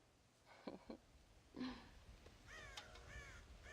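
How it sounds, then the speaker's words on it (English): Crows cawing in the Red Dead Redemption video game, a couple of short calls followed by a run of harsher, ragged caws at moderate distance over faint ambient background. "God damn crows!"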